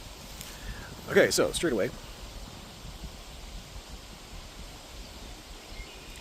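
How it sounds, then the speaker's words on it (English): Wind gusts buffet an outdoor microphone, leaving a steady low rumble that runs through the whole stretch, while someone speaks briefly near the start. "Hello, wind gust. Thank you for screwing with my audio."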